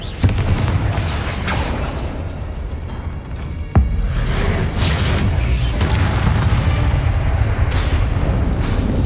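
Booming blasts and rumbling crashes from the Confringo explosion spell in Hogwarts Legacy, dense and loud throughout, with a sharp impact partway through amid continuous game noise.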